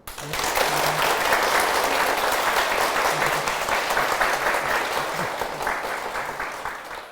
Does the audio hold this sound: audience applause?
yes